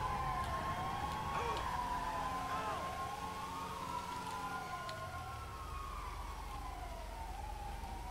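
Police siren in the video game GTA 5 Online wails in long rising and falling sweeps, loud and continuous for the whole stretch over a low engine rumble, with no talking.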